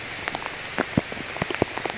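Scattered drops patter at an uneven pace, some close and sharp, others soft, over a faint steady hiss of rain.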